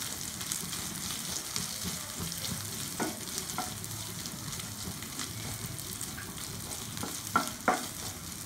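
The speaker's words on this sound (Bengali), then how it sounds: "মাংসটা একদম শুকনো শুকনো করে আমি ভেজে নিয়েছি।" Beef pieces frying in a pan until dry, a steady broadband sizzle with soft stirring scrapes and a couple of sharper clicks near the end, fairly close and moderately quiet.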